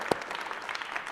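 An audience at a Liberal Democrat party conference gives brief, fairly faint applause, opening with one sharp clap and followed by a short patter of scattered clapping.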